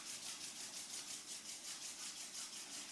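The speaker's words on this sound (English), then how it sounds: "Bring your hands together at your heart centre, rub your hands." Palms rub briskly together in a quick, even back-and-forth rhythm, a soft close swishing that repeats steadily with no voices over it.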